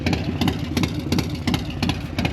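Close, loud motorcycle idling through an SP Concepts Lane Splitter exhaust, with a lumpy, uneven pulsing rhythm and a deep chugging throb.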